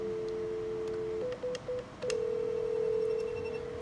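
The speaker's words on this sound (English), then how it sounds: "I'm going to test out the dial sequence. So we're going to call 1111" Keypad tones on a VoIP desk phone sound while a number is dialed: a steady tone, then four short evenly spaced beeps, then a longer sustained tone, all fairly quiet in a room.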